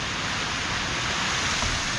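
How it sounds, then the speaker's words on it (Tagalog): Small sea waves washing near a shore from a fishing boat setting, a constant broad rushing wash of water, steady and fairly close with no distinct breaks. "Tsaka ang alon, no? Tamo ng alon. Pagkaliliit ang alon,"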